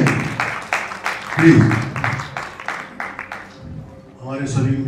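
Audience clapping at the KCF Bollywood Icon Awards 2021 ceremony, a short, fairly loud ripple of applause that fades, with a voice speaking over it.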